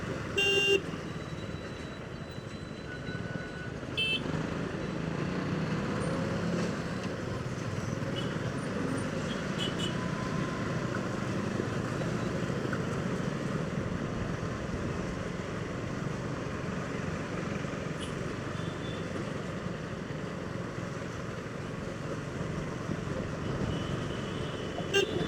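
Road traffic streams through a toll gate on the Andhra Pradesh border under hot sun, a continuous dense rumble of engines with occasional short car horn toots rising above it throughout.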